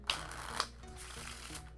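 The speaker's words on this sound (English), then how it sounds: "I'm going to start off by shuffling the deck" A deck of playing cards is shuffled by hand for a card trick, with two sharp riffle bursts followed by softer shuffling and rustling, close and clear with no talking.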